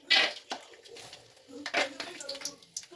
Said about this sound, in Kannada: ಈಗ ಇದಕ್ಕೆ ಶೇಂಗಾ ಹಾಕ್ಕೊಳ್ತೀನಿ